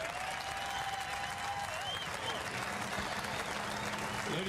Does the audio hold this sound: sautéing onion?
no